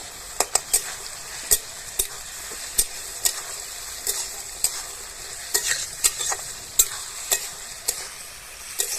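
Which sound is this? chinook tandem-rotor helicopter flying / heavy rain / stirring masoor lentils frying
stirring masoor lentils frying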